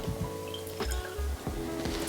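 Clonakilty single pot still Irish whiskey, 46% ABV, is poured with soft, irregular liquid drips and splashes over a steady low hum.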